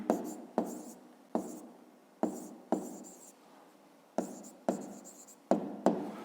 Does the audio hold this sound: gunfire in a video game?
no